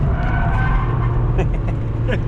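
A Mazda MX-5 on a race track works through a corner, its engine droning steadily as the driver gets back on the power, with brief tyre scrub near the end and an instructor's voice over the drive.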